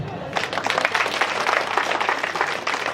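A crowd at a public gathering applauds a youth delegation from Sénoufo de Koumassi, a dense, sustained round of clapping that holds steady for a few seconds.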